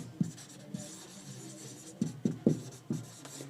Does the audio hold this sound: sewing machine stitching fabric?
no